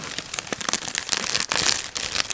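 A sealed plastic bag holding sprues from a Miniart 1/35 T-44 model tank kit being cut and pulled open; close, crisp crinkling and rustling with sharp bursts of plastic crackle throughout.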